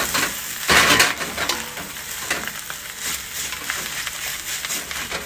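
Rice being stir-fried in a wok by a chef, a loud, steady crackling sizzle with repeated scraping and tossing, a louder burst near the start, then continuous frying.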